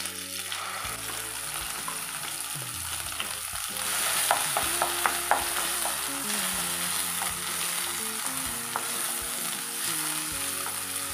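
Ivy gourd chutney fries with dried red chilies and curry leaves in a hot pan, giving a continuous, close sizzle and crackle broken by repeated light spoon taps and scrapes, with no speech.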